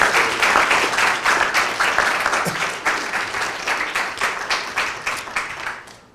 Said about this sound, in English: let's give Dr. Jeff Kaczorowski another round of applause